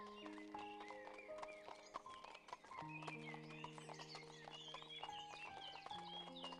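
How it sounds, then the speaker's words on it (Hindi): Horses gallop in an animated Beauty and the Beast fairy tale, steady clip-clopping hooves with a whinny, heard over background music. "हमने फजूल में घोड़े भगा दिए"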